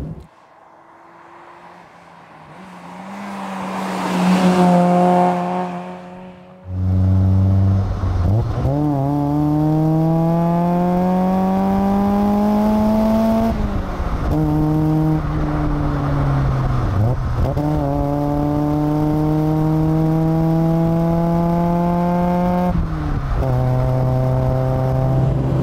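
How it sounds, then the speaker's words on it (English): A Toyota AE86 Sprinter Trueno GT-APEX engine revs hard while driving on Scottish touge roads, loud and close, its pitch climbing and dropping through repeated gear changes with no talking. "This engine is an absolute hoot."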